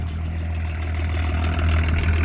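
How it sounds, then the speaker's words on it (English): A 1984 Lincoln Continental turbo diesel with dual exhaust runs with a deep, steady low rumble and a slight rise in revs, close and loud without talk. "We'll get it a few revs."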